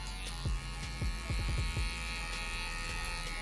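An electric hair clipper fitted with a guard comb runs with a steady close buzz while fading hair, its hum broken by repeated short sweeping strokes clustered in the middle.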